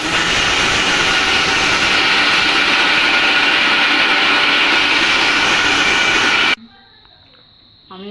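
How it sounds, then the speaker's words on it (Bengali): A mixer grinder roars loudly and continuously as it grinds rice with cold milk, then cuts off abruptly, leaving a quieter room. "নর্মাল ঠান্ডা দুধ আমি এটা দিয়ে মিক্সিতে গুঁড়ো করে নেবো"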